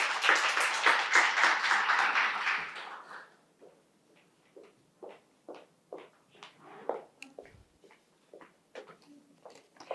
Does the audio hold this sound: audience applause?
yes